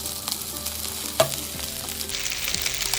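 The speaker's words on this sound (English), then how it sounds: "Pasta needs to fry a little bit" Pasta fries in olive oil with peppers in a pan, giving a close, steady sizzle with a single sharp clink partway through.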